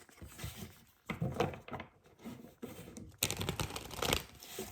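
A deck of playing cards being shuffled and tapped on a table, with bursts of riffling and crisp taps in uneven clusters, close and fairly quiet, with short pauses between.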